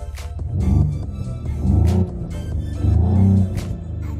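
A 2024 Mercedes-AMG GLE53 Coupe in sport plus mode revs its active exhaust three times, each a close, deep rising roar that falls back to a rumbling idle.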